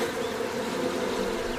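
Bees buzz in a dense, continuous drone that stays steady and fairly loud throughout, with no voices.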